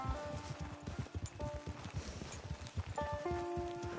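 Horse hooves clip-clopping in a video game, a steady, fairly quiet rhythm of hoofbeats with faint ambient game sounds around them and no talk.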